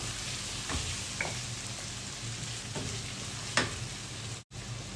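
Grated garlic sautés in a pan for a sausage curry, a soft, even sizzle with a few light stirring scrapes and taps, fairly quiet throughout.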